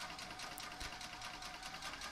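A Bernina Activa 140 sewing machine running steadily, with a fast, even mechanical ticking and whirring rhythm, close up and fairly quiet, with no talking.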